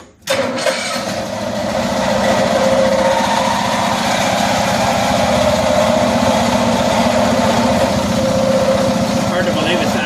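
A 1974 Cushman Truckster engine catches after a brief start and settles into a steady, loud, chugging idle with a fast, even pulse that runs throughout.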